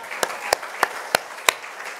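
Five sharp, evenly spaced claps from a church congregation sound in unison in a steady rhythm, with a faint murmur of background noise between them.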